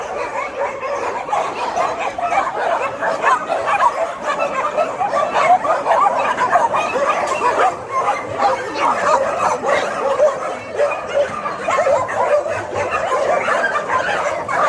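Many dogs barking and yipping in the first yard of an animal shelter in Bečej, Serbia, a dense continuous chorus with a person talking over it throughout.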